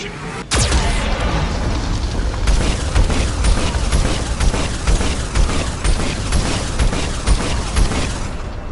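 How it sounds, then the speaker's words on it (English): Geth cannon fire and explosions in Mass Effect 2, a sudden loud blast followed by a dense, continuous roar of booming detonations and rumbling that stays heavy throughout. "Warning, Geth cannon is locking on our location."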